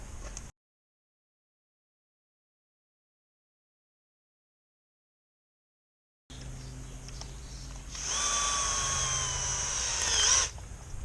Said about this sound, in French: Perceuse, forêt.